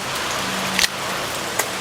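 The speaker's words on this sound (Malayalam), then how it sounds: "മഴയാണ്" Steady rain falling, an even hiss that continues throughout, with a couple of brief clicks or knocks rising above it.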